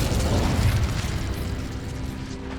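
Incendio, a fire spell in the video game Hogwarts Legacy, goes off with a heavy, booming burst and a roaring rumble that slowly fades away.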